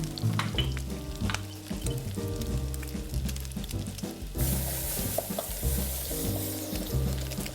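Crushed garlic sizzles and crackles steadily in a hot frying pan, with occasional stirring scrapes over a background of soft rhythmic music.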